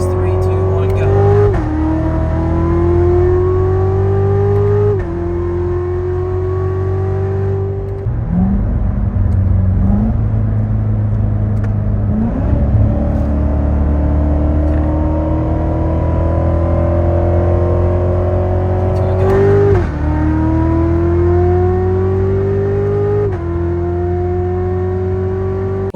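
A C7 Corvette Z06 accelerates hard during a roll race, its engine note climbing steadily through the revs with brief dips at gear shifts, loud and close throughout with a continuous deep roar.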